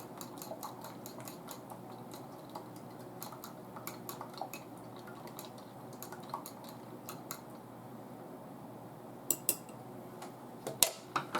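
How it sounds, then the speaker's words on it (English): A spoon scrapes and clinks against a bowl while breakfast muffin mixture seasoned with garlic is stirred, faint, irregular ticking knocks growing sharper toward the end, with no talking. "Stir that all up."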